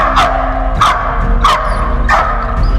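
A dog barks at a music video shoot, four sharp, loud barks close by, evenly spaced in quick succession.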